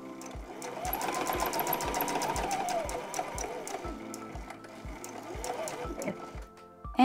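Sewing machine stitching a seam on a zipper bag, a steady fast mechanical chatter of needle strokes running close and continuous, slowing briefly near the end.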